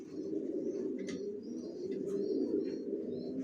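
A pair of adult racing pigeons coo steadily, a continuous low throaty burble close by with faint higher chirps scattered over it.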